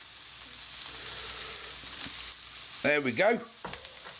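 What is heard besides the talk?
onions frying in a pan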